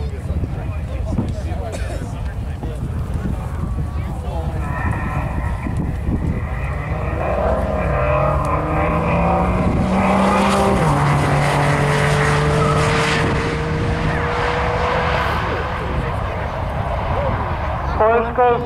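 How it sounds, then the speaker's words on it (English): A BMW sport utility vehicle and a Porsche drag racing side by side at a strip, engines roaring loudly and rising in pitch as they accelerate away, with a voice talking over the noise throughout. "BMW Sport Utility against the Porsche."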